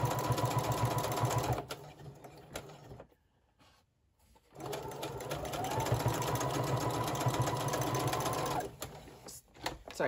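A sewing machine stitches pages of an accordion-style junk journal with ruffles, running steadily in two long bursts with a short pause between, close and loud.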